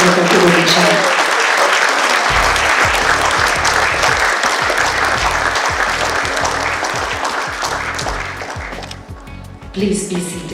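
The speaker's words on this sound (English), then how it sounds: "Please join me in giving a warm applause to His Excellency, the President of the Republic of Indonesia." A large conference audience applauds the President of the Republic of Indonesia, a dense, steady clapping that fills the hall for several seconds before thinning and fading, with a voice briefly heard over it.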